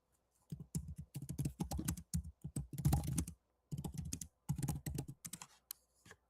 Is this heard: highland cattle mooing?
no